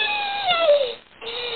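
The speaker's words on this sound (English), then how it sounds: "Coyote." A coyote lets out a wavering, high-pitched call that bends downward, breaks off briefly, then resumes as a steady tone, heard alone and up close.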